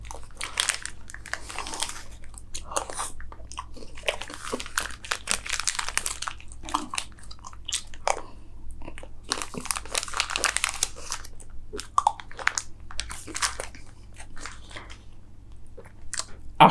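Someone eating a chocobar chocolate ice cream, close-up bursts of crunchy bites, wrapper crinkling and wet chewing in irregular clusters separated by brief quiet gaps.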